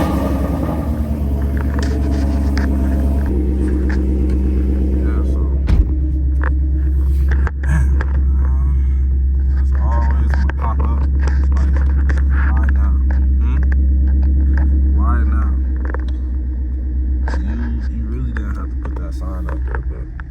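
A Ford Mustang GT idles with a loud, steady low rumble throughout, a deep continuous engine drone with small blips and someone talking over it at times.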